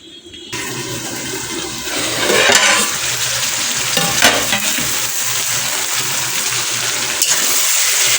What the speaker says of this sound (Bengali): টমেটো সব কেটে রেখেছি এখন এই মাংসের তরকারিটা আমি করব